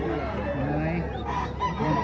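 A gamefowl rooster crows at the Padre Garcia fowl market over a dense, steady crowd murmur.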